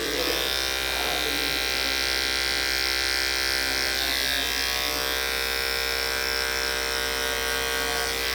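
Electric hair clippers fitted with an OA detachable blade cutting hair during a mid bald fade, a loud steady high-pitched buzz running continuously and up close.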